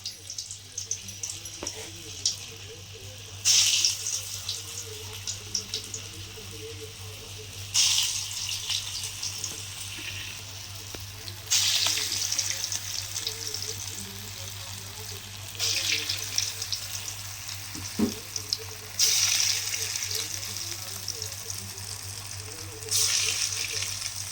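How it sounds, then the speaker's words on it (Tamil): Lentil balls for a paruppu urundai curry fry in hot oil, giving a steady sizzle that swells into louder bursts every few seconds over a low constant hum. "இப்போ உருண்டை பிடிச்சதெல்லாம் நம்ம இப்போ எண்ணெயில் போட்டு வறுத்துக்கலாம்"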